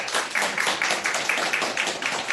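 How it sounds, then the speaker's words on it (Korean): An audience claps for a medical lecturer after a health talk, a brisk, fairly close burst of many hands with a slightly rhythmic pulse, steady throughout with no voices over it. "송진호 원장님께 큰 박수 부탁드립니다"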